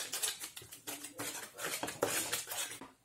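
A metal spoon scrapes and clinks against a bowl in quick, irregular strokes, close by, along with the gritty rustle of sugar granules being added to homemade horseradish sauce.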